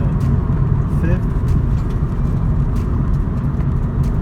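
A manual car cruises in fifth gear at around 2,000 RPM, its engine giving a steady, low, continuous drone close up inside the cabin, with no change in pace throughout.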